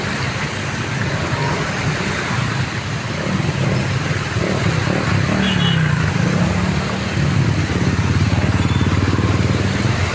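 Motorcycle engines rumble past along the roadside on a flooded street in Parañaque, amid steady roadway noise, close and loud, with people talking underneath.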